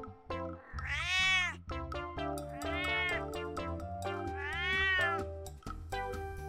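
A domestic cat meows three times in drawn-out, rising-and-falling calls, close and clear, with soft background hum between them.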